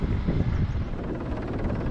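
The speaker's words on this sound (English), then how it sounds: "I am so sorry about the wind" Strong wind buffeting a microphone outdoors while fishing in a windstorm, a dense low roaring rumble with gusty fluctuations, loud and continuous with no talk.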